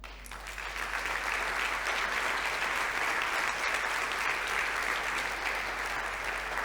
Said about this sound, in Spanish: Después dan un aplauso al Señor.